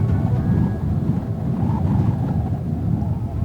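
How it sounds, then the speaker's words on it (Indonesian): Wind sweeps across singing desert sand dunes in Iran as grains rub together, a steady low rushing roar with buffeting gusts, heard alone and fairly loud. "Ketika angin bertiup, butiran-butiran bergesekan dengan cara yang menciptakan suara melengking, meratap, atau bersiul yang dalam"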